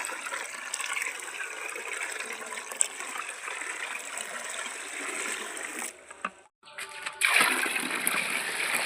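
Water poured from above onto soil around a freshly planted guava cutting in the field, a steady splashing trickle that briefly stops, then resumes louder.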